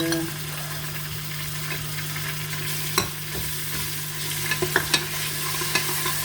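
Garlic and ginger sizzle in a pan, a constant close frying hiss with a low hum underneath and a few sharp utensil taps and scrapes near the end.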